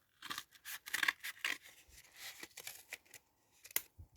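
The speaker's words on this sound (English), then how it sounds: "take your scissors and you're going to cut your loo roll tube in half" Scissors snip repeatedly through a cardboard tube, a series of crisp, close cuts with short pauses between them.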